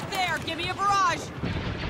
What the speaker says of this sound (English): Give me a barrage!